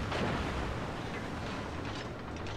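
Incoming naval gunfire rounds in World of Warships crash around an Italian tier-4 cruiser, a dense, continuous roar of booming shell impacts and explosions with no gaps.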